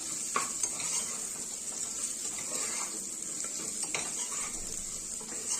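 A spoon stirs a mixed dal khichdi in a pot, with soft scraping, occasional metallic clinks and a faint steady hiss; no talking.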